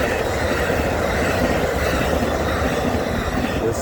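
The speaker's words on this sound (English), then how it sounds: "This was the northbound Amtrak P392 on the CS Champagne sub with the Amtrak" A northbound Amtrak passenger train led by a P42DC locomotive rushing past close by, a dense continuous roar of wheels and engine with rapid rhythmic clatter, loud throughout.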